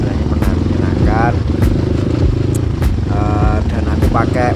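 A Kawasaki 140 dirt motorcycle, borrowed KLX trail bike, running steadily with a loud continuous engine drone and some clatter as it rides, with someone talking over it.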